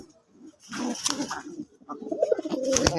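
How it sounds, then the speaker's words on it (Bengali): A male Rajgolla pigeon coos close by in a few soft, throaty bursts over roughly three seconds, with light rustling and background noise between calls. "দেখেন এই যে নটটা অলরেডি ডাকাডাকি করতেছে।"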